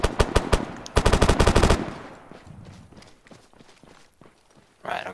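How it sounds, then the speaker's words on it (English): Rapid automatic gunfire in the military shooter Arma 3 rattles out in two loud bursts on a firing range, followed by quieter scattered shots and clatter, with no voice heard. "Ooh, that sounds like a good gun."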